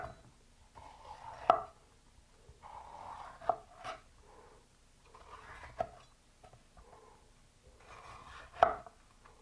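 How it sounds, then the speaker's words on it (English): A kitchen knife slices through bell peppers in several crisp, sharp cuts spaced a few seconds apart, close and clear against a quiet background. "then you can just slice your bell peppers"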